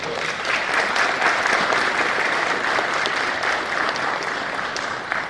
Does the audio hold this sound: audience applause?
yes